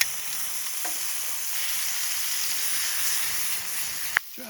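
Venison frying in a hot pan with a steady, bright sizzle held at an even level throughout, then a sharp metallic clink near the end as the sizzle drops away.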